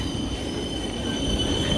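The Tirupati–Hazrat Nizamuddin AP Sampark Kranti Superfast Express rumbling along with a steady, loud roar of wheels on rails, a thin high squeal running through it, heard from close by with no voices.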